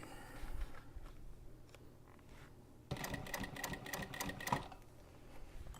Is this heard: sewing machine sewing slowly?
yes